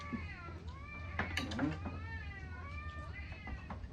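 A cat meows repeatedly in drawn-out, wavering calls, with faint clattering and a low background hum.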